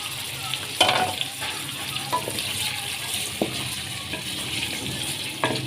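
Chicken feet fry in oil with garlic and ginger, giving a steady, soft sizzle with occasional clinks and stirring noises close by.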